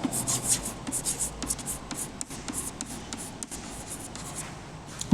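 Pen scratching across paper while a heading is handwritten, a steady run of soft rubbing strokes with small taps and pauses, close and alone.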